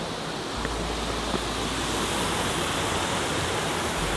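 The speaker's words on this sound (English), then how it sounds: "We have some huge waterfalls." A large waterfall in a Japanese koi garden roars as a loud, steady wash of rushing water, continuous and broad with no voices.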